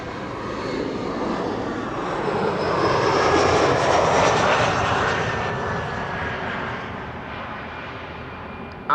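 An Embraer Praetor business jet rolls past on a runway at Amsterdam Schiphol Airport on a sunny day, its steady engine roar building to a loud close peak mid-pass with a faint whine, then easing away, with no talk.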